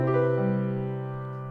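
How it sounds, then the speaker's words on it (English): A single piano chord with a major seventh quality rings out and slowly decays, bright and close, no voices. "if you don't know what a major 7 chord is, it sounds like this."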